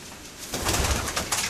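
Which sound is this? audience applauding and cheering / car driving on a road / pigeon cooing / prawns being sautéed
pigeon cooing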